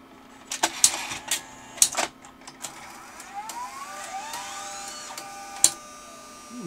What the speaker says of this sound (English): You could hear the head cleaner cycling then.